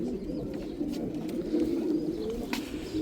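Pigeons cooing softly and continuously close by, low murmuring calls over a light background with a few faint clicks.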